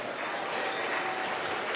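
Steady applause from a crowd at a market swine show class at a state fair, a continuous patter of clapping with no break.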